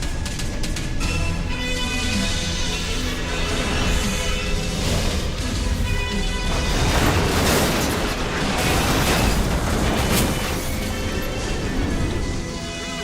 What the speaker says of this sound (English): Okay, Daedalus, commence firing.